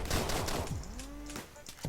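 Gunfire in the Deadbolt video game, a dense burst of rapid shots with ringing tonal tails, moderately loud and close throughout the short stretch, no talking.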